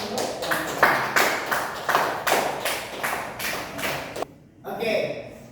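Children clapping together in a classroom, a dense patter of many small hands that runs steadily for several seconds, then pauses briefly and resumes.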